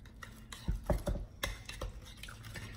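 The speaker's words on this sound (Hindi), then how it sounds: "अब हम ऐसा करेंगे कि इसको हम अच्छी तरह से मिक्स कर लेंगे।" Chicken roast marinade being mixed by hand in a bowl, with soft wet stirring and a few light clinks of utensil against the bowl, close and fairly quiet.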